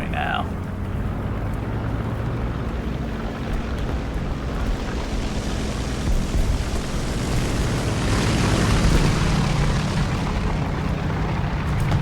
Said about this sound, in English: Also can't hardly hear anything over the sounds of those plane engines now